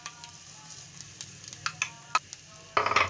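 Vermicelli being dry-roasted with nuts in a pan gives a soft, steady stir-and-scrape texture, with scattered light ticks and rustles and a denser burst of sizzling near the end.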